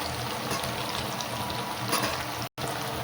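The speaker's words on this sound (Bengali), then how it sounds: "পনিরটা হালকা হালকা করে ভেজে নেব" Paneer frying lightly in a pan while cooking a vegetarian biryani, giving a steady, loud, dense sizzle that runs unbroken apart from one very brief gap near the end.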